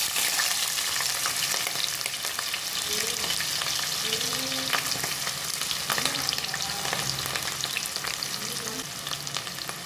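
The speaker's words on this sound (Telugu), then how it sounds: "ఆయిల్ హీట్ అయ్యాక 2 ఉల్లిపాయలు, 4 పచ్చిమిర్చి కట్ చేసుకొని వేసుకోవాలండి." Sliced onions and green chilies frying in hot oil, a loud, constant sizzle with frequent scraping stir strokes throughout, no voices.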